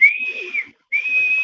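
A person whistles two sustained, steady notes separated by a short pause, close and clear with no talking.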